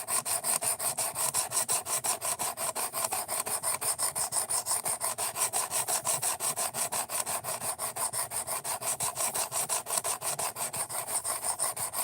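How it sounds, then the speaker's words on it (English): Steady, rapid back-and-forth rasping of a blade stroked on a sharpening stone, an Ozark Trail axis lock knife being sharpened, continuing evenly throughout with no talking. "we're going to sharpen now rather than fight it out for the next 3 hours"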